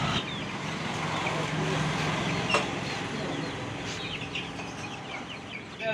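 Native country chicken chicks, a mixed batch of small birds at a pet shop, keep up a busy, continuous peeping and clucking over steady background noise.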